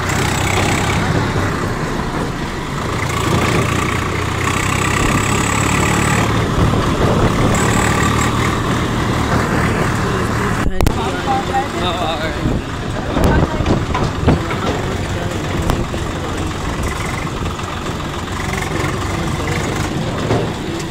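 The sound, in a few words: tractor with trolley reversing, engine running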